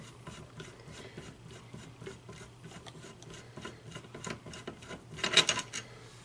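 A muzzle brake is unthreaded from a rifle barrel by hand, giving a soft, close, continuous metallic rasping and rubbing that grows slightly louder near the end.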